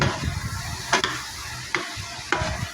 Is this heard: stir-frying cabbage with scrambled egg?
yes